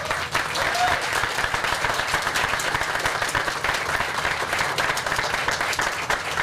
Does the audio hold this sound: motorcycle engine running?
no